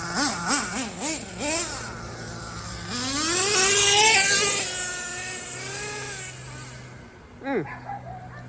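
A small nitro engine in an HPI Savage XL 5.9 RC truck screams and revs up and down in rising and falling pitch sweeps, loud and close, easing off before a final quick rev.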